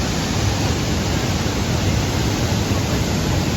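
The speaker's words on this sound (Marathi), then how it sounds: "हे बघा लोकेशन, काळू वॉटरफॉल धबधबा." The Kalu waterfall in full flow, a dense, continuous roar of rushing water, loud and steady with no pauses or other sounds.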